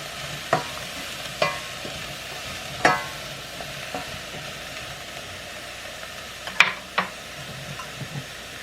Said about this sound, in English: And stir it in.